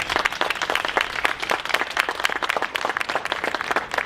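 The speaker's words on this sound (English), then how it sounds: "A big round of applause for them." A crowd at an outdoor Constitution Day event applauds veterans with continuous mixed clapping, moderately loud and fairly close, some individual claps standing out over the steady wash of hands.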